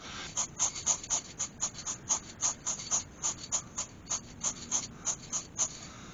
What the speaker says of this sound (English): So now I'm going to give it a couple of coats of lacquer